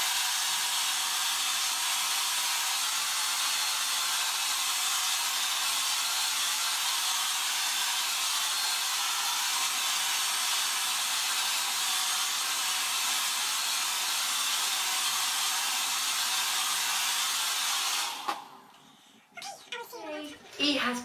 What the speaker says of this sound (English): Then I'm going to blast it with my hairdryer